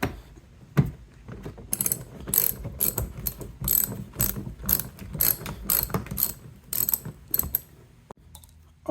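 Socket ratchet tightening the mud flap bolts on a Jeep Grand Cherokee L, a close series of quick clicking bursts in uneven strokes with brief pauses between them.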